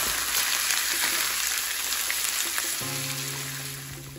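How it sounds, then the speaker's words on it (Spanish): Onion frying in a pan with a steady, close crackling sizzle that holds even throughout, with no talking. "Mientras vamos a freír la cebolla."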